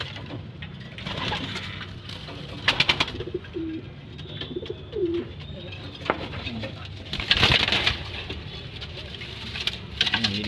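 Racing pigeons cooing softly in a loft, with patter and rustling movement around them and brief louder bursts of wing and body noise.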